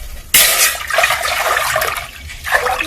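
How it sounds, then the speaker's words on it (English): Water pours into a cooking pot on a stove for pasta, starting abruptly as a loud, splashing gush that continues unevenly with bursts and trickles. "Then I'm going to go in with some water."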